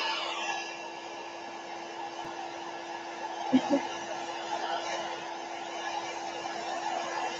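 A hair dryer blows on goop in a steady, moderately quiet whir that runs throughout, with a couple of brief soft knocks partway through.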